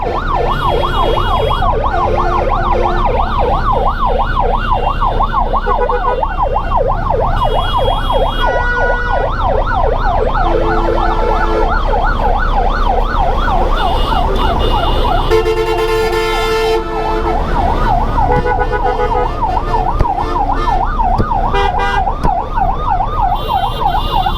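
Several ambulance sirens wail loudly and continuously over the rumble of heavy road traffic on a flyover, a wavering up-and-down tone that persists throughout, with a brief horn blast midway.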